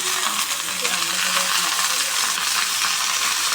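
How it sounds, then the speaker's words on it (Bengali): Leafy ivy gourd greens being stirred in a hot pan with turmeric and salt, a steady close sizzle and frying hiss with soft scraping of the spatula throughout. "নাড়াচাড়া করে দিচ্ছি এখন আমি"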